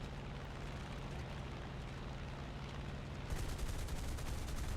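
Aircraft cannons on an F6F-5N fighter in War Thunder fire a deflection burst at a BF-109F4, a rapid, loud stream of shots over the droning engine that grows sharper and harder midway through.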